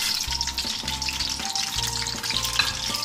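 Whole spices frying in hot oil: cumin, black cardamoms, green cardamoms, cinnamon, cloves, black peppercorns and a bay leaf. A loud, close, bright sizzle carries on throughout, with a few soft knocks and scrapes of stirring.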